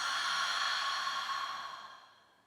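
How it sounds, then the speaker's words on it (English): A long, soft exhale through an open mouth during a yoga breathing exercise, a breathy hiss that starts steady and slowly fades out, close and alone. "Now open your mouth and exhale."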